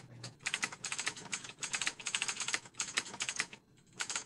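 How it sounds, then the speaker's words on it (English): Rapid keyboard typing in bursts of clicky keystrokes with brief pauses between runs, close and fairly quiet. "To me, again, that sounds like a keyboard."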